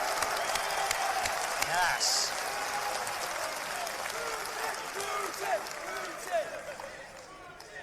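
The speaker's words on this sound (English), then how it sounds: "Can we give a round of applause for Russia?" Faint crowd applause at a political rally, steady clapping mixed with scattered cheers and a distant voice over the noise.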